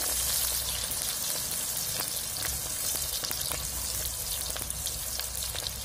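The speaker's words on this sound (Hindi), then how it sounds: "प्याज और हरी मिर्ची को बिल्कुल अच्छे से फ्राई कर लेंगे" Onions and green chillies fry steadily in a pan for mutton fry, giving a continuous close sizzle with a soft crackle and scattered small pops. No one speaks.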